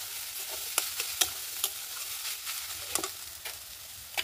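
Green peas fry in a pan with a steady close sizzle, while a utensil stirs and scrapes them in several sharp, irregular clicks.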